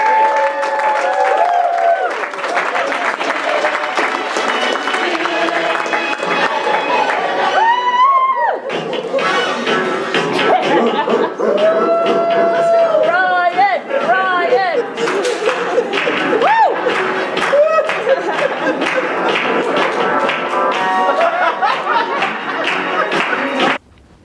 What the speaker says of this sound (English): Stand up, big round of applause